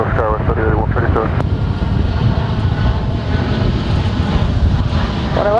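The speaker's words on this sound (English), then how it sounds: "American Airlines Flight 1670 coming in from Albuquerque. 737-800." An American Airlines Boeing 737-800 jet arrives at DFW airport, its engines a loud, steady roar close by throughout, with wind rush over the top and brief voices at the start and end.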